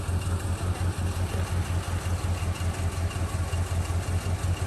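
A 1975 Chevrolet C20 pickup with a 350 V8 and four-barrel carburetor idles steadily nearby, a continuous low, even rumble with no voices over it.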